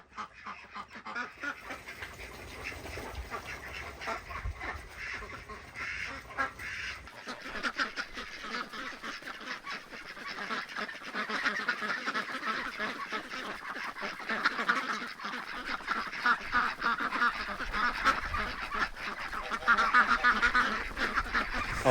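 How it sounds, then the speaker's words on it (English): A flock of penned ducks, with geese nearby, quacks and honks loudly and continuously from close by, the calling growing busier and louder toward the end. "You hear how loud the ducks are?"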